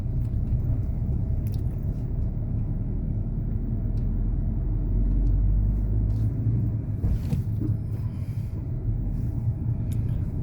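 Interior rumble of a vehicle climbing the road from Tirupati to Tirumala in the early morning behind a bus, a steady loud low engine and road drone throughout, no talk.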